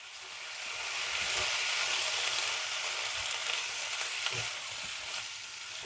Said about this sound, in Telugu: నూనెలో వేడైన తర్వాత ఇప్పుడు మనం ఇందులో బెండకాయలు వేసేసుకుందాం